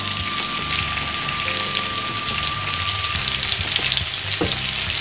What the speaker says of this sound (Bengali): খুব কেয়ারফুলি মাছগুলোকে ভেজে নিতে হবে কারণ এই মাছগুলো খুব সফট হয়